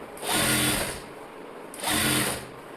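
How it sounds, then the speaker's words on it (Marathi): Sewing machine top-stitching a blouse lining, two short rapid whirring bursts of stitching about a second each with a pause between, close and moderately loud, no talking. "याच्यावर दाब शिलाई द्यायची"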